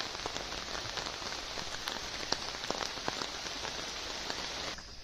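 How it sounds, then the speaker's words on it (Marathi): Heavy rain pours down steadily, a dense continuous hiss of drops hitting surfaces with scattered louder patters, close and constant until it cuts off near the end. "पाऊस पण खूप पडतोय."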